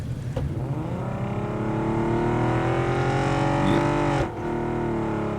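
A stolen car's engine drones and revs steadily in the mobile game Free City, holding a rising tone before dropping off abruptly near the end.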